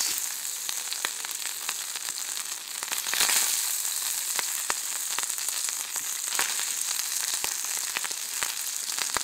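An egg frying in a pan over an EcoZoom rocket stove outdoors, a steady close sizzle with scattered crackles and pops running throughout, no talking.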